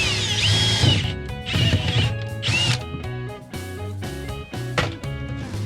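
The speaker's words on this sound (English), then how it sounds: "unibit or step bit, whatever you call it" A unibit step drill bit bores through sheet metal during an air purifier installation, giving a loud, shrill, whining grind that rises and falls in pitch over several bursts of drilling with short pauses between.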